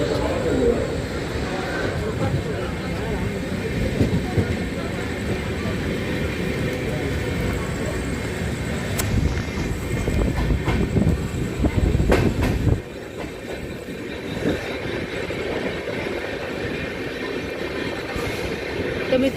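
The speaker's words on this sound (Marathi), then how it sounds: "तर मित्रांनो, आपली ट्रेन जाणार वाया कलवा मुंब्रा" The Siddheshwar Express rolls steadily along the rails with a continuous rumble and rhythmic clatter heard from inside the coach, a passenger speaking over it and birds faintly audible.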